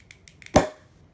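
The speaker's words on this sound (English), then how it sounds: "you'll notice when I do pop the latch, we're going to get a pretty good bang." A pressurized Skunkcase Pax 2 smell-proof case has its latch popped, giving one sharp, loud bang-like pop that ends quickly, preceded by a few faint clicks.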